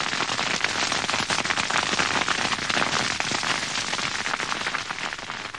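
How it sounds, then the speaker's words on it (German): A burning sugarcane field in Andalusia gives off dense crackling and rapid popping that pour out continuously like a fierce blaze, loud and close, with no voices. "Blitzartig verwandelt sich das Feld in ein Inferno aus Flammen und ohrenbetäubenden Explosionen."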